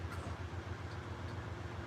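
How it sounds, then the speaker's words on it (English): A train getting ready to pass by, a low, steady rumble heard from a distance, faint and continuous with no voices. "I'm literally letting into a train getting ready to go by"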